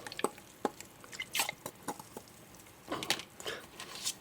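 Liquid fertilizer solution with Biobizz additive is stirred in water for feeding Canna Terra plants, giving soft irregular drips, splashes and sloshing, close and fairly quiet, with no voice.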